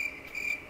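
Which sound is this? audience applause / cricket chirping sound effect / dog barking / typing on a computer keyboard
cricket chirping sound effect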